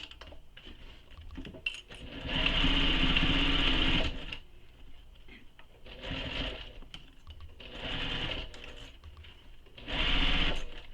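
A sewing machine stitches a bag's side seam in four separate bursts of rapid, even whirring, with short pauses and small clicks and handling noises between runs.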